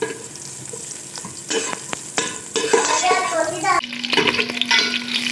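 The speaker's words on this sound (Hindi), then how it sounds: "हमने एक देगची ली और उसमें प्याज डाला और उसको ब्राउन किया" Onions browning in oil in a degchi pot, with steady frying sizzle and repeated scraping and stirring of a spoon against the metal pot, close and clear, with a brief faint voice in the background.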